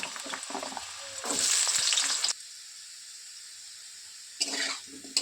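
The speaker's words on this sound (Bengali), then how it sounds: "এই যে আলুটা লাল করে ভাজা হয়ে যাচ্ছে" Hissing, crackling oil as potato pieces fry, loud at first, then fading to quiet before another short sizzle returns.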